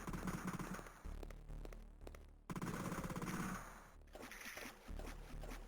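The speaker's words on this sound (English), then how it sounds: "that's rapid fire shooting at me." Rapid automatic gunfire from the video game Alien Breed 3D II, dense bursts of shots in quick succession with short breaks between them, fairly quiet overall.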